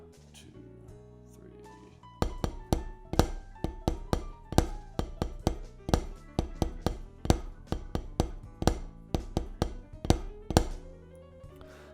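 Snare drum rudiment: a drag-flam figure inverted to start on the diddle, played as a steady run of sharp, close strokes with grace-note flams, after a brief spoken count-in.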